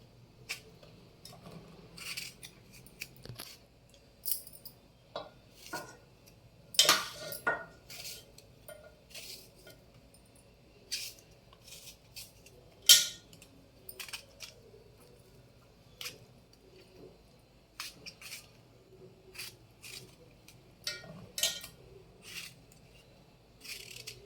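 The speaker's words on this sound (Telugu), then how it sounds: "మన వంకాయలు అనేవి కొంచెం చూసుకొని కట్ చేసుకోవాలి" A knife cuts brinjals into pieces for a chutney, making scattered sharp taps and clicks against a cutting surface at an uneven pace, close but fairly faint over a quiet background.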